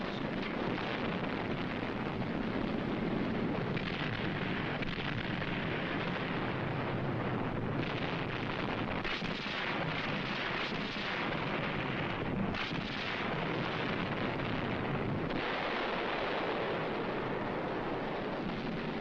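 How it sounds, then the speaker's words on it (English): Underwater demolition charges blow up beach obstacles during a WWII Pacific amphibious landing, heard as a dense, continuous roar of rumbling blasts with surging bursts, loud and boomy throughout with no voices. "Underwater demolition teams blow up beach obstacles."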